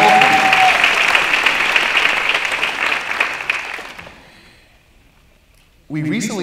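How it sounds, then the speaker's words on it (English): An audience applauds for the Miramar Cultural Center on its 10th anniversary at a State of the City event, a loud, dense clapping that fades out over several seconds before a voice begins speaking. "let's give a round of applause to the Miramar Cultural Center, celebrating 10 years since it opened."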